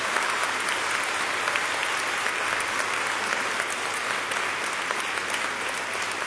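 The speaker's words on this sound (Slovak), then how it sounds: "Dámy a páni, veľký potlesk pre pána doktora Kampelov." Steady, dense applause from a seated audience at a health and beauty academy event, greeting a doctor; continuous clapping of even loudness with no pauses.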